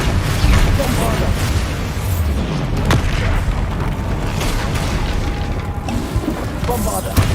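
Bombarda explosion spells go off in the game Hogwarts Legacy, loud booming blasts and crashes over dense combat noise, with a voice shouting among them.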